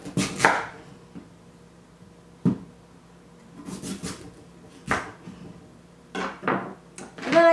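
A knife cuts vegetables in half on a wooden cutting board in a home kitchen during food prep. About eight to ten sharp, close chops and scrapes come at an irregular pace, with quiet gaps between them.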